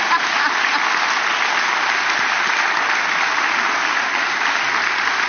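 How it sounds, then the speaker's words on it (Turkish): Steady audience applause at a live stage comedy show, a continuous dense clatter of many hands at even loudness from start to finish. "Arada beğendiğiniz olursa alkışlayabilirsiniz."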